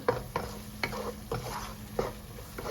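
Dried chillies fry slowly over a very low flame in a pan of oil for dry mango pickle, giving a soft, close sizzle broken by regular scraping stirs about twice a second.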